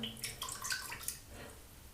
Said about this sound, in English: I'm just gonna dip it into the water